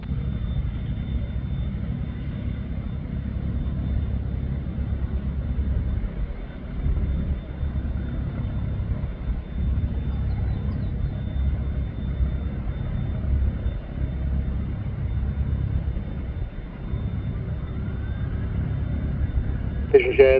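An Allegiant Airbus A319 jet taking off from Cherry Capital Airport in Traverse City, a steady loud low engine roar sustained throughout, with faint radio chatter underneath.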